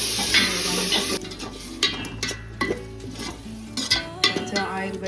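Masala paste frying in oil for kushka rice with yogurt and tomato, stirred steadily in a pan: a continuous sizzle with repeated scraping and clinking strokes of a spoon against metal, close and fairly loud.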